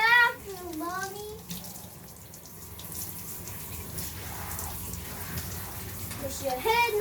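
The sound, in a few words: water running while washing a big dog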